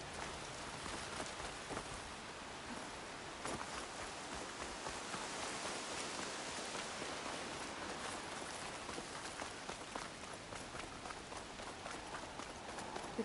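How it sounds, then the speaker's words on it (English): Steady heavy rain pours across a wild landscape in Horizon Forbidden West, a dense continuous hiss with scattered footsteps or hoofbeats running through it, no voices. "Can't hear much over the rain."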